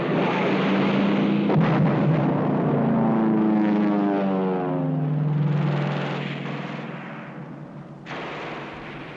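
Fighter plane engines in a documentary sound effect for a 1944 air strike on Truk Lagoon airfields: a loud roaring flyby whose pitch sweeps downward, layered with sharp bursts, then cut off and repeated briefly at the end.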